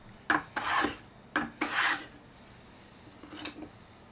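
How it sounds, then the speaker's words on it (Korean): A hand saw cuts a firewood block into a square, with several close rasping strokes in short bursts and pauses between them. "마지막 톱질로 정사각형을 깎아줍니다."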